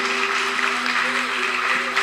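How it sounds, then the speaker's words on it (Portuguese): A church congregation applauds in worship, a dense, steady wash of many hands clapping at once, with sustained musical tones running underneath for the whole stretch. "Dê uma salva de palmas ao Senhor"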